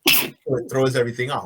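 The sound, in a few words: sneeze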